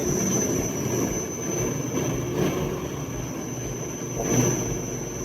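An STvega Belt Cutter H200 industrial herb cutting machine runs steadily with a continuous loud mechanical rumble, a persistent high whine and faint rhythmic chopping pulses.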